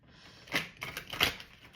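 Tarot cards are shuffled by hand, giving three short, quiet, crisp riffling bursts in quick succession.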